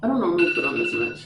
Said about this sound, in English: That's my alarm to leave.